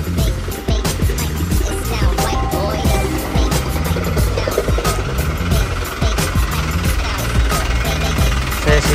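A Hino Dutro 110 SDBL truck's diesel engine idles loudly and steadily with a rough knocking rumble, close by, with occasional speech over it.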